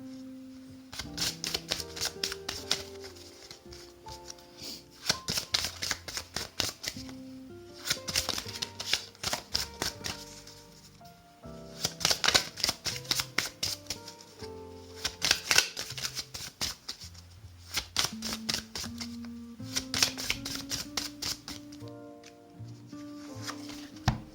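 Tarot cards shuffled over and over in close, repeated riffling bursts, each a rapid flurry of crisp flicks followed by short pauses, steady and moderately loud throughout with no talk.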